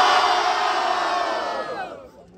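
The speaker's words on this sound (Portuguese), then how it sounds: "barulho para as imagens, Sabuão!" A loud rap battle crowd at Batalha da Leste roars with cheers and shouts, then the noise fades away toward the end.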